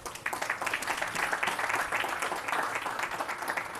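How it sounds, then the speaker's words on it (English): Applause from an audience at a community event, a steady wash of many hands clapping at moderate distance, fairly soft and even throughout with no talking over it. "give yourselves a round of applause just for showing up today."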